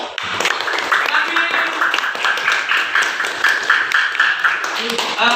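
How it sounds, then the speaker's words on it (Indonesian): Classroom applause in an Islamic religious education lesson: students clap together in a steady, dense patter that runs throughout, with voices mixed in. "Tepuk tangan"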